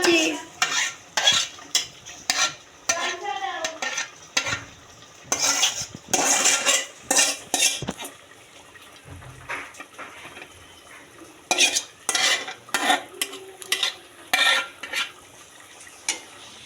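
Moong dal is stirred into liver cooking in a pot, heard as loud, quick bursts of a metal spoon scraping and clanking against the pot, separated by short pauses, over a faint sizzle, with no talking.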